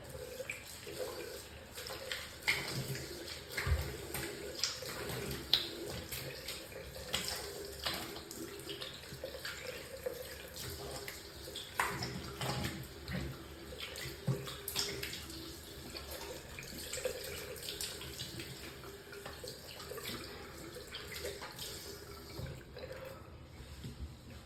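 A bathroom tap runs in a steady, soft stream for rinsing during a straight-razor shave, with a few light splashes and clinks over it.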